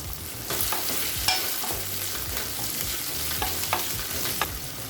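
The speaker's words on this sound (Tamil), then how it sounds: "அடுத்தது ஒரு தக்காளி சேர்த்துக்கலாம்" Tomatoes and salt go into a moong dal sambar over the heat and are stirred. A continuous close sizzle carries repeated scraping stirs and light knocks of the spoon against the pot.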